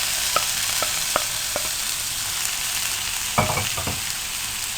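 Raw mango pieces, tomatoes and chilies tumble into an open cooking pan, a few soft thuds and clatters early on, then a denser burst of knocks and scraping near the end, all under a steady background hiss.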